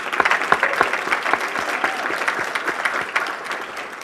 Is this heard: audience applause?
yes